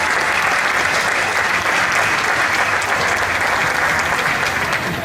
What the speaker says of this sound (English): So we have to give them a round of applause for that.